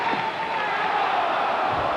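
A baseball stadium crowd on its feet cheers and roars in a dense, sustained wall of sound at a 1988 Athletics vs Red Sox game, with a commentator speaking over it.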